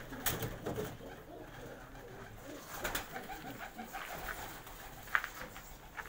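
Breeder pigeons coo faintly and steadily in a loft among rustling and shuffling, with a few sharp clicks and taps breaking through the low, continuous background.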